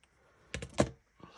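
Scissors snip through paperclips in a few quick, close crunching cuts, two clustered together and one more after a short pause, with no talking.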